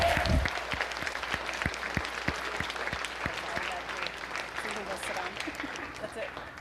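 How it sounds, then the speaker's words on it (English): A church congregation at a Sunday milestones service applauds for the children and their teachers, a broad, sustained spread of clapping from many hands at moderate distance, with some individual sharp claps standing out and a voice faintly beneath. "we just want to give these kids a big round of applause for their amazingness and their teachers"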